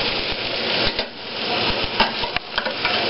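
Shredded beef and onions fry in a pan under a steady sizzle, while a utensil taps and scrapes the metal in irregular clicks as the meat is spread out.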